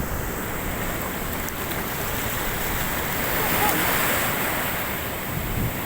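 Ocean surf rolling steadily onto Cemara Sewu beach in Tulungagung, East Java, a continuous broad wash of breaking waves with wind noise, swelling slightly louder toward the end, no voices.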